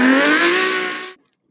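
Car drifting after a handbrake initiation, a loud tire squeal with rising pitch over engine tone that holds for about a second and then cuts off abruptly into silence.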